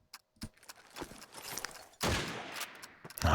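Gunfire in Call of Duty 2 during a competitive match: scattered single shots, then a dense rapid burst of fire with a few more shots after, fairly close and with no voices.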